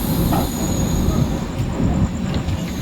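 Train wheels rumble and clatter on the rails in a steady, loud roar, with faint high squeals from the wheels running through it, aboard the Digha–Puri Samudra Kanya Express near Puri, India.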